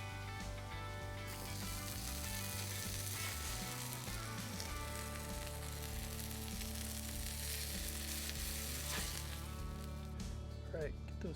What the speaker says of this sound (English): Burger patty down.